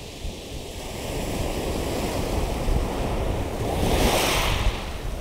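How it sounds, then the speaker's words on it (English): Ocean waves break and wash in at Durdle Door, a broad rushing surf swelling louder toward the end, heard close with wind buffeting the microphone and no talking. "And these waves are just perfect"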